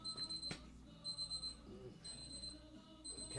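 Faint, high electronic beeps from a Black & Decker oven used for powder coating repeat in short bursts in the background of a quiet room, with soft low clatter nearby.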